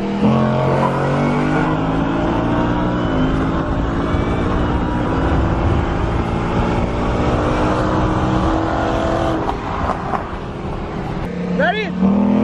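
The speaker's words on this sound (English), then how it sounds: "This is what happens when you race the wrong Hellcat in traffic." A Dodge Durango SRT and a Hellcat race in traffic, engines roaring loudly and steadily under acceleration with rising and falling tones and passing wind noise, ending in a brief whining rise near the close.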